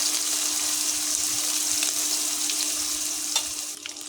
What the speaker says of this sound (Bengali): মাছগুলো আমি সুন্দর করে ভেজে নেব খুব বেশি লাল করবে না